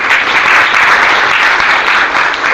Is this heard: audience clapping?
yes